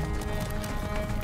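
Horse galloping in the video game Far Cry 6: a steady clip-clop of hooves at a run, heard beneath a continuous layer of sustained, tonal game music.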